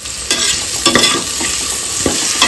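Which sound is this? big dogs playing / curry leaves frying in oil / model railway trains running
curry leaves frying in oil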